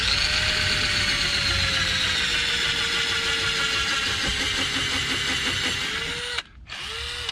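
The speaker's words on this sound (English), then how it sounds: "If my drill would work properly, I think it's about to die actually." Failing power drill driving screws into 2x4s, a loud continuous motor whine whose pitch sags slowly as it labors, then cuts out abruptly and sputters back briefly near the end.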